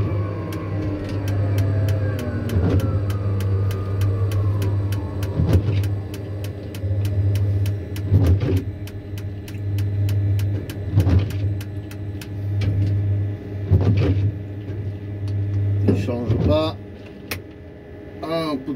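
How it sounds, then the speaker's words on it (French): An older, tired car engine idles with a steady low hum, broken every few seconds by short sharp clunks or knocks, with voices and cabin noises around it. "Même le moteur il doit être déjà un peu fatigué."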